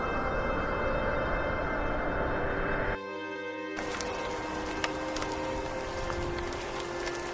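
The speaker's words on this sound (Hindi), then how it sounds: "बहुत जोर की बारिश होने वाली है।" Heavy rain pours steadily in a dense, hissing wash that briefly thins before returning at full strength.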